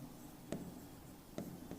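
Chalk or marker writing on a classroom board during a physics lesson, heard as two faint, brief scratching strokes over a steady room hum.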